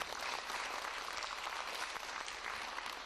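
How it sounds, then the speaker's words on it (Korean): A lecture audience breaks into steady, dense applause, a continuous crowd of clapping hands that fills the whole moment at moderate level, with no voices over it. "박수, 박수, 박수."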